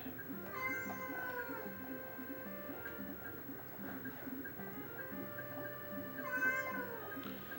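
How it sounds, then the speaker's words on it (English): A pet cat meows and yowls near the microphone, wanting to go outside, in a few drawn-out rising cries. A steady ticking runs underneath. "So my cat is currently yelling at me that he wants to now go outside"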